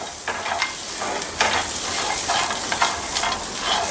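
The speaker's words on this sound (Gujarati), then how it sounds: "આપણે તેમાં આ જે લસણ હતું તે નાખી દઈશું અને આપણે તેને શેકવાનું નથી ફક્ત તેને ગરમ કરવાનું છે" Garlic is stirred and warmed in a hot pan, giving a steady close sizzle with repeated scraping strokes of a spatula rising and falling in rhythm.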